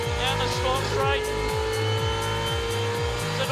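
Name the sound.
race car accelerating out of a hairpin turn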